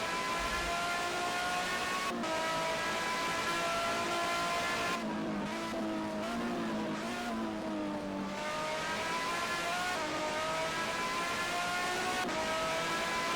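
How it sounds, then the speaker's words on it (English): A race car laps the Salzburg circuit during the first race of the NLC Trophy, its engine holding a steady, fairly distant drone that rises and falls in pitch through gear changes and corners, with no voices. "He's gonna do one more lap of the circuit of Salzburg on this first race of the NLC Trophy"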